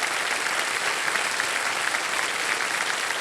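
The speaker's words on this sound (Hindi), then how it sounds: "उनके लिए तालियां बज जाएं जोरदार" Dense, loud studio-audience applause on the KBC television quiz show, an even, continuous roar of clapping with no pauses and no talk.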